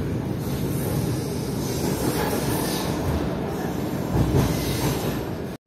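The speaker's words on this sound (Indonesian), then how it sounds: "Ya sebentar lagi memasuki stasiun Wlingi." A Gajayana passenger train entering Wlingi station, heard from on board as a continuous loud rumble of wheels on rail with faint squeals and rhythmic clatter, steady throughout and close.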